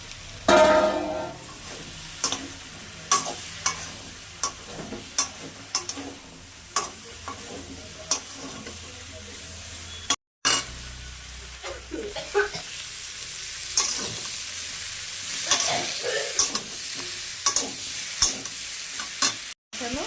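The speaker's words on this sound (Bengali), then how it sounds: "এবার লাউটা দিয়ে আর একটু কষিয়ে নেবো।" Bottle gourd being sautéed with spices in a pan, a continuous sizzle and frying hiss with repeated ticks and scrapes of a spatula stirring, close and steady, with a couple of brief cuts.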